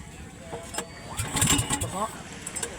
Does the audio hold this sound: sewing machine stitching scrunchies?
no